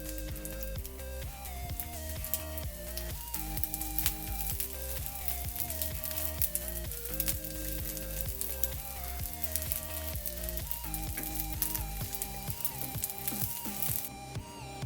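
Rice with red, yellow, green and orange capsicum sizzles and crackles steadily in a frying pan while being stirred, a continuous close frying sound with soft scraping and background music.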